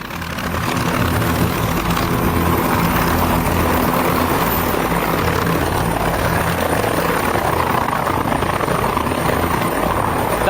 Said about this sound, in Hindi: यही है वो हेलीकॉप्टर जिससे मदुरो को लाया गया